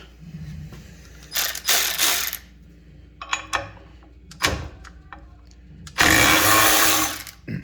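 A Snap-on impact wrench, compared in air and battery versions, fires in several short loud bursts to break fasteners loose, with quiet gaps and mechanical clicks between hits and a final longer sustained burst, close up, with no talk.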